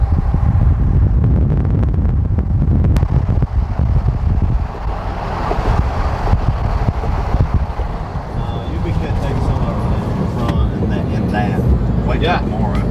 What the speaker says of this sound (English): 25 to 35 mile an hour winds out of the north, gusts a little bit higher.